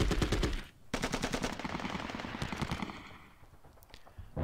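Machine-gun suppression fire in the wargame Panzer Battles Kursk rattles out in fast, dense bursts, a short gap and then another sustained burst that fades toward the end.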